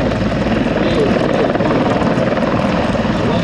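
A Bulgarian-built 1981 Mi-24 Hind helicopter flies past with a loud, steady rotor and turbine roar that fills the whole moment.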